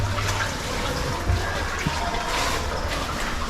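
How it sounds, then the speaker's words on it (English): Water rushing steadily through an underground cave passage toward a hidden waterfall, a constant broadband wash with low rumble, close and moderately loud, with a few faint bumps and possible quiet voices. "a lot of water comes through there, so it's enough that we could crawl through"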